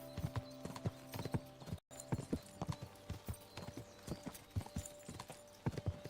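Horse hooves clip-clop in a steady trotting rhythm as a rider travels in a video game, with crisp, moderately close hoofbeats and a short gap in the middle.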